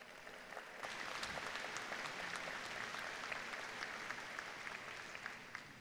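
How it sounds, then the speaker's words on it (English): Steady applause from a large audience at a university presidential inauguration fills the room, a dense wash of clapping that swells and holds for several seconds. "Please give them a round of applause."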